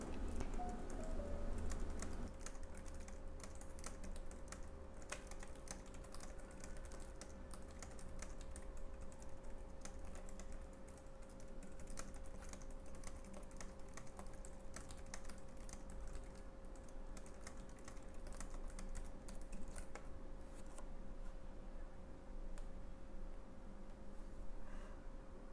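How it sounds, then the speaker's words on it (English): Steady, close typing on a pink Logitech K380 keyboard fills the whole stretch in a quick, even patter, with occasional clicks from a Logitech Pebble mouse mixed in; no one speaks. "Here are some typing and mouse sounds."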